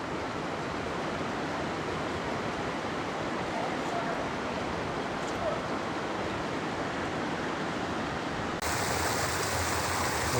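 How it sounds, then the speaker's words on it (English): A waterfall on a spring hike near Payson, Arizona, pours in a steady, broad roar of rushing water that stays constant and fairly close, with no break throughout. "this is the waterfall that we had for our turnaround point"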